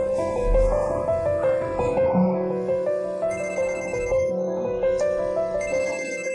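A telephone ringtone plays steadily with a repeating melodic pattern, loud and close, with no voices over it.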